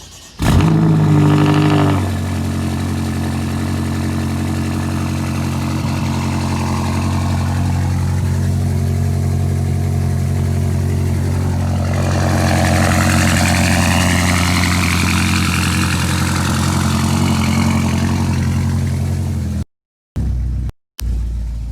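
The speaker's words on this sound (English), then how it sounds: "straight pipe aftermarket exhaust is very loud, especially on a cold start" A BMW M5 (F10) V8 with a straight-pipe exhaust barks loudly to life on a cold start, revs sharply, then settles into a deep rumbling idle with a couple of quick blips near the end.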